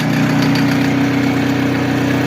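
Newly installed electric outboard motor on a sailboat run at 12 volts, a loud, steady droning hum with constant vibration throughout and no talking.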